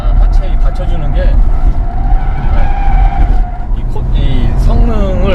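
A 2017 Audi A4 45 TFSI quattro with a 252-horsepower engine drives hard through corners, its loud, steady low engine rumble joined by road roar and brief tire noise throughout.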